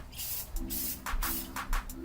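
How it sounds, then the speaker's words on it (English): Spray paint hisses in bursts onto a curb-rashed car wheel under repair, with short pauses between passes and a faint low hum beneath. "keep spraying at an even distance so you don't get any runs in your paint"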